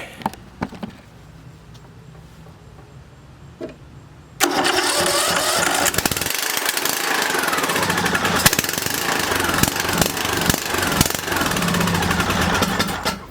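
An old junked John Deere riding mower engine cranks a few times, then catches at about four seconds and runs loud and rough, close by, with no talk over it.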